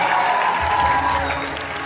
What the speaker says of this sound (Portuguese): Peço os aplausos para a psicóloga Betânia de Souza Teixeira.